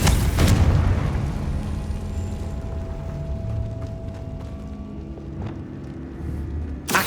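A Confringo fire spell bursts in the video game Hogwarts Legacy, a loud explosive boom at the start that rolls into a rumbling tail, with a second sharp burst at the very end.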